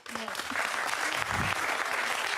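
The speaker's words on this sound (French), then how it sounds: "Non mais vraiment les applaudissements faut arrêter" Studio audience applause on a French TV talk show: a burst of clapping that swells and holds steady for a couple of seconds, with a voice briefly heard underneath.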